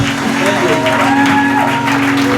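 Church audience applauding and cheering for a prophet, a dense burst of clapping under music and a voice talking over it.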